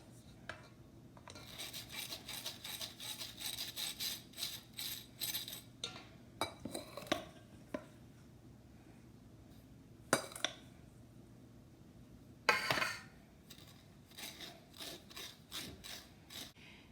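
Flour and dry cake ingredients for a white cake are sifted together, producing a soft, rhythmic scratchy rasping of a sieve in repeated short strokes, with a few clinks and louder scrapes.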